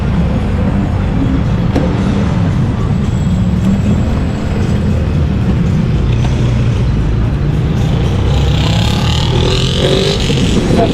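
Steady roadside highway traffic, a continuous loud low rumble of passing cars and vehicles close by, with a broader whoosh of a vehicle going past near the end and no clear speech.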